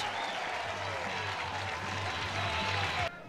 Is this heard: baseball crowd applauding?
yes